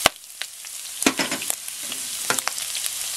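Minced garlic and ginger sizzle with ground pork in a hot pan for mapo doufu, a loud close crackle broken by sharp clicks and scrapes of stirring, with no talk.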